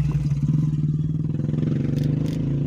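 A motorcycle engine runs close by on a street outside an old man's repair workshop, a steady low rumble with a throbbing pulse that holds for the whole stretch without fading away.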